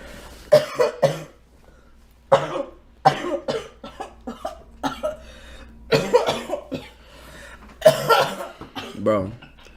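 A person coughs in repeated harsh bursts, several clusters of loud, close coughs with short pauses between them, some bursts running together into longer fits.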